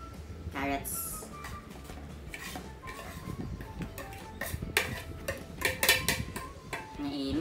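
A utensil stirs tuna pie filling with onion and carrots in a pan, giving irregular metallic clinks and scrapes that grow busier toward the end, with quiet talk in the background.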